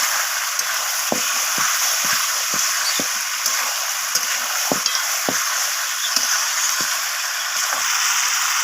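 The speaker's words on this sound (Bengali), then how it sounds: "এরপর আলুটা দিয়ে আবারও কষাচ্ছি আমি" Chicken and potato pieces frying with spices in a pan give off a steady close sizzle, with repeated scrapes and taps of a spoon stirring them at an uneven rhythm.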